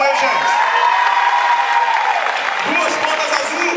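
Applause and cheering from a crowd at a capoeira batizado ceremony, steady and dense with shouts and voices mixed through it, continuous across the whole stretch.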